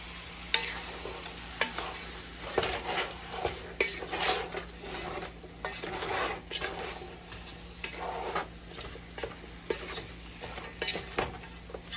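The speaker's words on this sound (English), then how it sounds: "We're going to get all those seasonings in there, stirred around, rub together on each other." Seasonings are stirred into a pork pot, with a spoon scraping and clinking against the pot in irregular strokes over a soft sizzle, close and fairly quiet.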